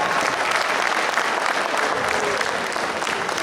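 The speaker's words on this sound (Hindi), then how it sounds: "एक बार पूरा सदन जोरदार तालियां अपने आप के लिए बजाए।" Sustained, loud applause from a full audience in a hall at an alumni meet, steady dense clapping filling the whole stretch without a break.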